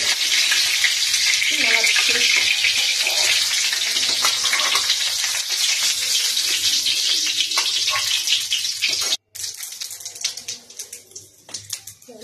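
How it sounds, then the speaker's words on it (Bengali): A fish head frying in hot oil in a Bengali home kitchen: loud, dense sizzling and spattering for about nine seconds, a brief drop to near silence, then quieter, uneven crackles that taper off. "মাছের মাথাটা ভেজে"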